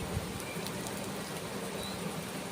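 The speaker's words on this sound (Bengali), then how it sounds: "এইভাবে বানিয়ে নিয়ে তারপরে ভেজে নিচ্ছি তেলে" Dhoka lentil cakes frying in mustard oil make a steady, even sizzle with fine crackling hiss throughout, close and moderately soft, with no talk.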